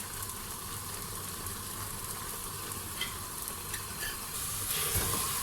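Steady crackling sizzle of white kidney beans frying in a pan, continuous and close, with occasional stirring scrapes and the hiss swelling near the end.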